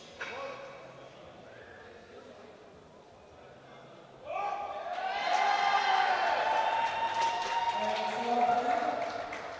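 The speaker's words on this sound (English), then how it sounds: "a really noisy GB team, always pleasant to see, cheering for the athletes" A noisy Great Britain team crowd cheers and shouts for a lifter at a European junior classic powerlifting championship, starting with quieter voices and then swelling into loud, sustained cheering that fills the hall.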